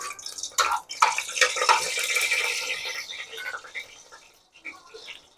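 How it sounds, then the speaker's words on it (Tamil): Bay leaf, star anise, cinnamon and cardamom sizzle in hot oil at the start of a bhai-style biryani, a close, steady frying hiss with brief crackling bursts that fades toward the end. "எண்ணெய் காஞ்சிருச்சு. பிரியாணி இலை, அன்னாசி பூ, பட்டை, ஏலக்காய் இதெல்லாம் போட்டாச்சு. லைட்டாக வதக்கி விட்டுக்கலாம்."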